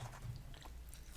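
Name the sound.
chewing a McDonald's Big Mac during a mukbang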